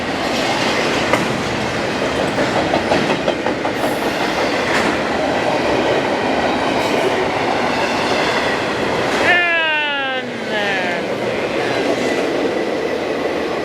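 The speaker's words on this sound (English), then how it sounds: "They put a Q train in back of an S train here." A long freight train rolls past nearby in Fullerton or Simi Valley, California, with continuous rumbling and clickety-clack, a brief wheel squeal or horn sweep partway through, and a short spoken remark.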